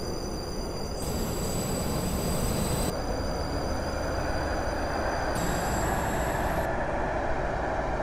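A Class 458/5 train in the video game SCR rumbles steadily along the track, a constant low roar with faint high whining tones above it, no voices.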